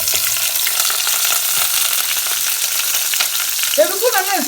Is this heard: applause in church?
no